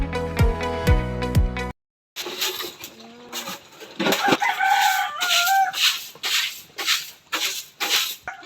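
Chickens on a farm at feeding time, with a rooster crowing and hens clucking near the microphone, amid other livestock calls and scattered noisy activity; a burst of rhythmic tonal sound opens the scene before a brief silence.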